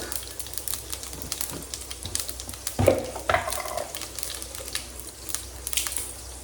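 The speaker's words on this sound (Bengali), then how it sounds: "দিয়ে দিচ্ছি তেলের মধ্যে গোটা জিরে" Whole cumin seeds crackle in hot oil, a low, steady, close sizzle marked by a brief clatter of a utensil or pot partway through, with no talking.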